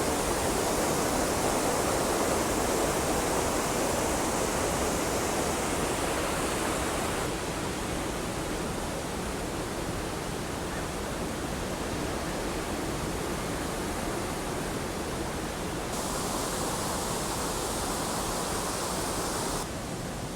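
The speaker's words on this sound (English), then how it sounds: "Some major water rushing there." Steady, loud rush of a waterfall at Meramec Springs State Park, Missouri, a constant roar of falling water with no pauses.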